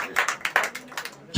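A church congregation claps hands in a quick uneven series of sharp claps, close and moderately loud, ending with a louder burst of sound.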